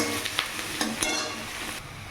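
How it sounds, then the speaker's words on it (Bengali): Chopped onions fry in oil in a pan, making a loud, continuous close-up sizzle with a few sharp scrapes and clicks from stirring early on. "এখানে পেঁয়াজটা ভাজা হোক"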